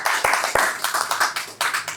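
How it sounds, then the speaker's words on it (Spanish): A small audience claps, with uneven individual hand claps and quick bursts of close applause running through two seconds. "¡Aplauso!"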